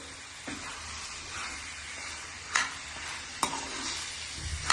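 Food frying in a pan is stirred with steady sizzling and hissing, punctuated by a few sharp scrapes and clinks of the utensil against the pan, close up and with no talking.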